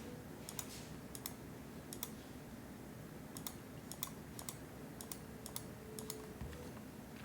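A computer mouse clicks faintly at close range, often in quick pairs, repeated at irregular intervals over a low background hum with no voices.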